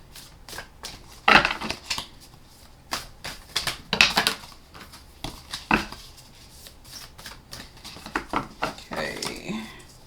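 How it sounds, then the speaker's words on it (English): A deck of cards being shuffled and cards pulled out, heard as bursts of crisp riffling and snapping flicks at an irregular rhythm, close and fairly loud, with brief pauses between handling sounds. "I'm going to do the 3-card deck and pull the 2 cards out of it."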